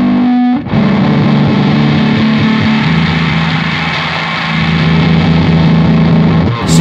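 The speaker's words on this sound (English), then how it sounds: "So the tone control on this is a simple tilt control." Electric guitar chord played through a homemade distortion pedal on a cheap protoboard, a sustained, heavily fuzzed wall of sound as the tilt tone control sweeps between bassy and trebly, ending with a sharp pick attack.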